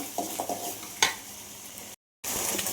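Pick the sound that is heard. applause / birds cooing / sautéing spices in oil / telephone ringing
sautéing spices in oil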